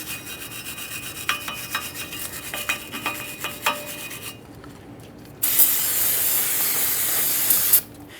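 Wire-brush scrubbing on a 2015-2020 Ford F-150 wheel bearing hub gives a close, rhythmic rasping, then parts cleaner sprays in a loud, continuous hiss for a couple of seconds before stopping.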